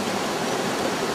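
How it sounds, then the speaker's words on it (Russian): Steady, loud rushing of water tumbling over rocks at a rapid on the Tok River, a continuous broadband roar with no pauses or voices. "Эх, водопад хороший."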